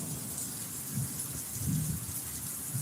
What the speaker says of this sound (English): Ooh, now that was a big old lightning right there.